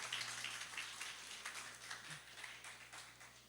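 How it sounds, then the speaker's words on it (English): An audience at a research symposium applauds a presenter, a faint, distant, steady patter of many hands clapping over a low room hum. "Let's give him a round of applause"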